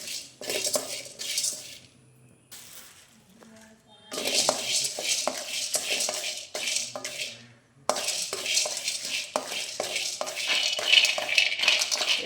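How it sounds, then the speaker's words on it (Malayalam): Nuts and seeds dry-frying separately in a pan on a low flame, with repeated rattling, scraping stir strokes of a spoon against metal in bursts, separated by brief quiet pauses. "ഓരോന്നും ചെറിയ ഫ്ലെയിമിൽ ഇങ്ങനെ ഒന്ന് ഫ്രൈ ചെയ്തിട്ടെടുക്കാം"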